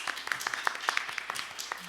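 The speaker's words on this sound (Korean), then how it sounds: "박수로 맞아주십시오" Sparse clapping from a conference audience at a medical society's founding academic meeting, a brief scattering of quiet claps that fade within two seconds.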